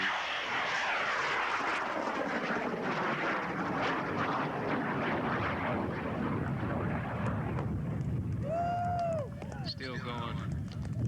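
A high-power rocket on an N2000 motor lifts off at a large launch event, a distant roaring rush that sweeps downward in pitch as it climbs away. A crowd shouts and cheers over it.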